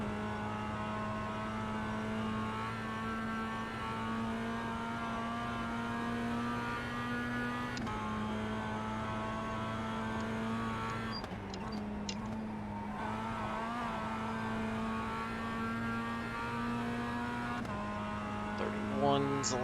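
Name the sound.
production race car engine in iRacing video game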